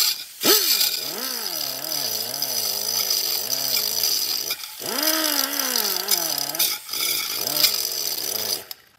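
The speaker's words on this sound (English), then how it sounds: "you just want to use the grinder, be extra careful, safety glasses on, and just kind of drag it across" Angle grinder dragged lightly across rusty rear brake parts on a Ford Taurus during a brake job, whining and wavering in pitch as the load changes, with two brief drops in speed and a steady close, loud grinding rasp.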